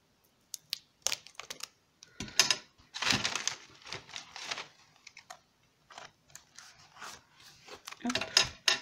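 Scissors snipping through patterned scrapbooking paper in pink, grey and beige tones with foil, a series of close, quick crisp cuts and rustles in irregular bursts with short pauses between.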